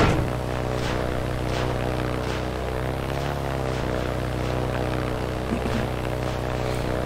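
A propeller airplane drones steadily in the video game Aircraft Evolution, a continuous engine hum with a buzzing tone that stays even and close throughout, with no one talking.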